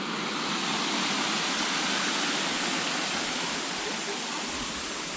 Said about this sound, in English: Here is the top of Cayuga Falls.